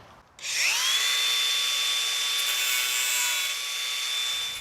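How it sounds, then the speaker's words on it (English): An angle grinder cuts off protruding brad nails on a wooden gate frame, spinning up sharply and holding a loud, steady high-pitched whine with a ringing tone for several seconds before the recording ends. "for these brads sticking out, just whack them off with a grinder"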